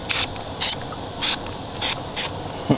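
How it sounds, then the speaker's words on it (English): Spray paint can hissing in five short, sharp bursts with even pauses between, close and loud, while repainting a PSA AR15 rifle through a stencil. "You're not about to get a face full of spray paint."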